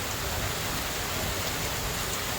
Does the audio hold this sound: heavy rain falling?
yes